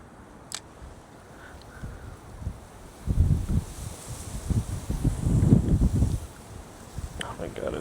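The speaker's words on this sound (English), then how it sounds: "Oh my god, it's so windy." Strong wind buffets the microphone outdoors beside a pond, a gusty low rumble that swells and fades, with rustling leaves and a faint click or two.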